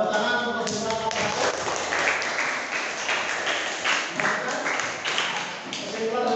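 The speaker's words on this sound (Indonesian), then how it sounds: "Tepuk tangan untuk kesimpulan." Students in an Islamic economics class give a continuous round of applause, the clapping mixed with voices and cheering, loud and steady throughout.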